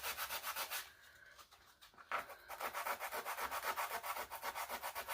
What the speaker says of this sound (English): By scraping them, and then just with a little bit of sandpaper,